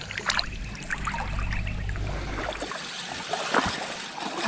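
Creek water trickles and splashes softly around kayaks being walked upstream by hand during a bass fishing trip, a steady faint gurgle with a few sharper sloshes, close by and with no talk.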